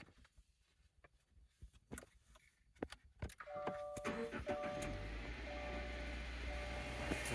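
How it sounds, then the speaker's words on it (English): A car engine cranks and fires up after a few scattered clicks and knocks, then settles into a steady idle hum with a faint whine, heard close and alone. "I'm going to start the car"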